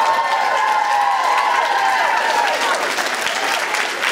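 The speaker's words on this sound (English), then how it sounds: "give the people who put the dedication to getting these amazing cosplays a round of applause" Convention crowd applauding cosplayers at a fan event, a steady dense wash of clapping and cheering that holds loud and close for the whole stretch.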